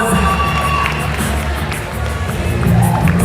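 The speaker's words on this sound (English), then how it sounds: "Round of applause." A crowd at the Miss Tourism Uganda 2023 pageant cheering and clapping, a loud continuous roar of shouts and applause throughout, with some voices carrying above it.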